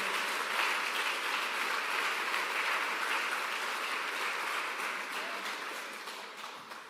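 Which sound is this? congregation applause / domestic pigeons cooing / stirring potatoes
congregation applause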